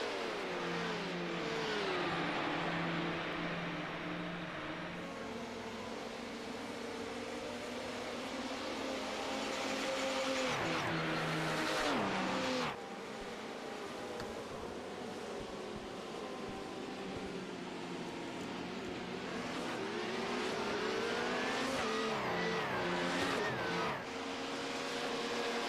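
LMP1 sports prototypes race around Monza near the Parabolica corner: a dense, continuous engine roar rising and falling as cars rev and pass, loud and unbroken throughout.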